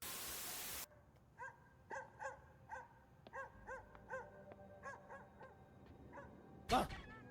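A dog in an anime scene gives a run of repeated yelps and whimpers, fairly close and clear, after a brief burst of noise at the start and before a sharp thud near the end.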